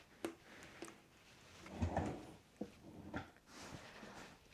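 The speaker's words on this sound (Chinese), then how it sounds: "我们打开抽屉，看一看我的耳机在里面吗？" Drawer being pulled open at home, a few short wooden knocks and sliding scrapes spaced across a few seconds, close and fairly quiet with no talking.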